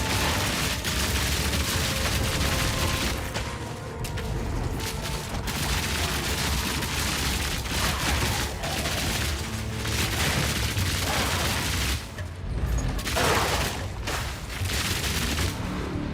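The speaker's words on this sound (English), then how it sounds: "See that death explosion," Death explosions in the action game Path of Exile 2 pile up in a continuous, dense barrage of booms and crackling blasts, a heavy fusillade of combat noise that barely lets up throughout.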